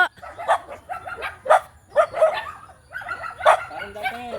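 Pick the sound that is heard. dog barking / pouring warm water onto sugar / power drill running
dog barking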